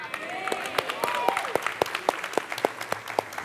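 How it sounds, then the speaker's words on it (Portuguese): Congregation applauding at a church service, with rhythmic sharp hand claps layered over a steady crowd clapping wash, fairly loud and close. "para você aplaudir com mais força agora"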